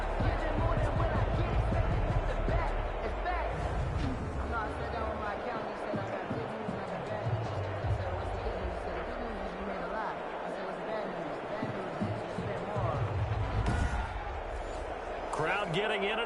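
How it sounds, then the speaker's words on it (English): A football stadium crowd roars in a steady, dense wash of cheering and hubbub throughout, with a commentator talking over the noise and a swell of louder crowd energy near the end. "Crowd getting in it a bit already."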